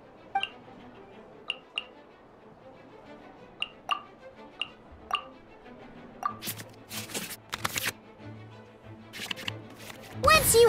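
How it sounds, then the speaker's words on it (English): Digital card sound effects from the Genshin Impact Genius Invocation card game as cards are shuffled back into the draw pile: a string of crisp, evenly spaced clicks, then a denser flurry of swishes and taps, fairly quiet. "we can select any number of cards in our hand to shuffle back into the draw pile, and then draw the same number of new cards"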